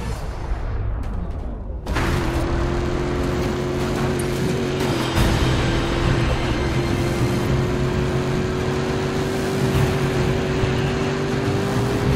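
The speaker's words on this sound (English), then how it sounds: "Cars headed your way." Car engines in a city scene from the video game FIFA 18, a loud continuous roaring drone that starts abruptly after a brief lower passage and holds steady to the end.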